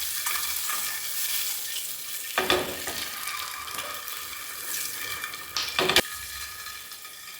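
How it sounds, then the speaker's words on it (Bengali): Eggs frying in a pan on a home kitchen stove with a steady sizzle throughout, broken by two louder bursts of crackle as something is stirred or added, alongside another egg curry cooking. "একদিকে ডিমের ঝোল হচ্ছে, আর একদিকে দেখো আমি ডিম ভাজছি"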